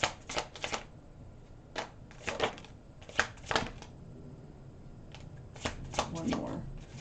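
Tarot cards are handled and laid out on a surface in a quiet room, with soft scattered slaps and flicks coming in irregular bursts.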